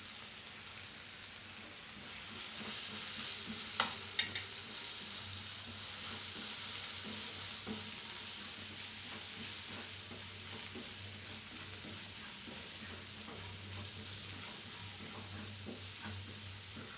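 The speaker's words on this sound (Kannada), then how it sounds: "ಹಸಿ ವಾಸನೆ ಹೋಗೋವರೆಗೂ ಫ್ರೈ ಮಾಡ್ಕೊಂಡಿದ್ದೀನಿ" Potato and spinach masala with coriander powder, chili powder and garam masala fries in oil, a soft, steady sizzle with occasional scraping stirs and one sharp clink early on, fairly quiet and without speech.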